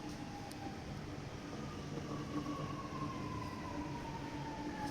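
A train arriving at a station, a steady low rumble with a faint sliding squeal of wheels on the rails, moderately distant and continuous throughout.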